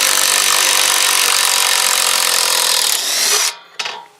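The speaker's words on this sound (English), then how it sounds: "This thing's just the torquiest impact driver I've ever had." An impact driver runs in one long, loud continuous burst with a buzzing mechanical whine, then stops abruptly and gives a brief final rattle before going quiet.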